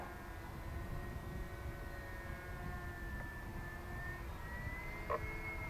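Waco biplane flying overhead, a steady droning engine drone at a distance with faint shifting pitch and a constant breezy background, no talking.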